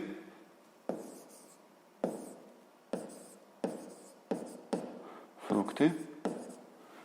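Chalk or pen strokes writing out a table by hand, a series of distinct scratchy bursts spaced about a second apart, close and clear with no talking.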